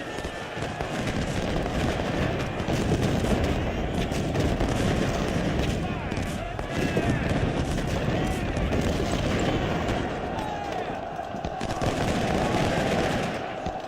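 Continuous massed musket volleys from troops in the Civil War strategy game Ultimate General Civil War, a dense unbroken crackle of rifle fire with someone talking over the battle din.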